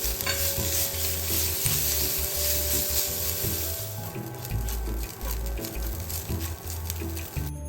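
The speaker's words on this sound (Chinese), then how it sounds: "将肉末油脂爆香" Minced pork frying in a wok with oil after ginger, a dense continuous sizzle under repeated stirring and scraping of the spatula, close and busy throughout.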